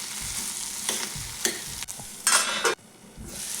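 Soya chunk vadas stir-fried in a kadhai: a steady sizzle of frying with several bursts of scraping and clattering from the stirring spoon, close and moderately loud, with no voices.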